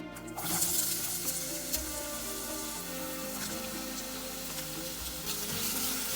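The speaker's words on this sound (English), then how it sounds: "Once the oil is hot, we will add the onion into it." Chopped onion sautéing in hot oil in a pot on a gas stove for a Goan-style king fish curry, a steady, close, continuous sizzle with a brief stir partway through.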